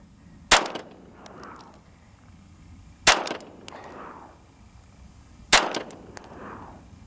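Three loud gunshots fired at a laptop, evenly spaced about two and a half seconds apart, each a sharp close blast with a brief ringing, clanging tail.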